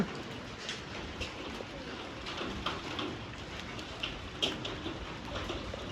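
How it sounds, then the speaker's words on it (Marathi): A hailstorm pours down in the village of Ninam in Satara, a dense steady rush of falling rain and hail with scattered sharper impacts, fairly close, and faint voices in the background. "सातारा जिल्ह्यामधील निनाममध्ये गारांचा पाऊस पडायला सुरुवात झालेली आहे."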